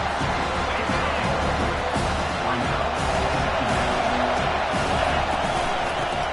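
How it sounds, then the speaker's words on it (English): A football stadium crowd roars steadily through a tense red-zone defensive stand, a dense, continuous wash of cheering and noise with no quiet gaps, loud and sustained throughout. "here comes the noise. This crowd is trying to inspire this defense to make a big red zone stop"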